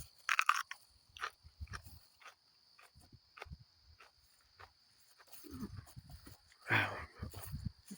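Crisp crunching bites and chewing close to the mic while eating a thick-walled raw ornamental pepper, a sharp crunch at the start and another near the end, with quiet mouth sounds between.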